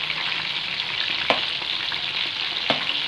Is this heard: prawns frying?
yes